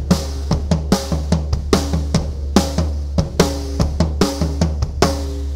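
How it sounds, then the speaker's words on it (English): Intermediate drum groove with the right hand moved onto the floor tom, a steady, loud pattern of booming tom hits mixed with kick and snare strokes, repeating in a tight driving rhythm with no talking. "You can move your right hand to a floor tom"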